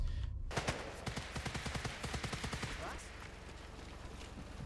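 An MG42 machine gun fires in Sniper Elite 5, a rapid string of evenly spaced, punchy shots lasting several seconds before trailing off into a fainter rumble.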